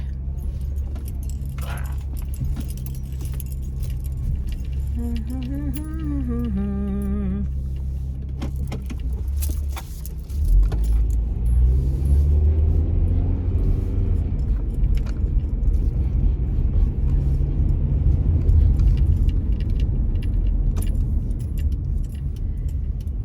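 A car drives along with a steady low road rumble inside the cabin, preceded by jangling keys and a short electronic chime, the engine note rising as it pulls away.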